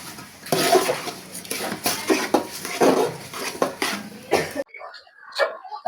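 Uncooked rice poured into a cooking pot for a vegetable khichuri with chicken, a dense, gritty rattle that runs steadily for several seconds, then stops abruptly, leaving a few faint clinks.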